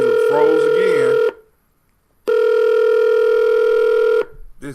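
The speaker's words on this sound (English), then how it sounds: "So now Uber conference is ringing" An Uber Conference call rings on a computer: two long, loud, steady electronic ring tones with about a second of silence between them, close and clear.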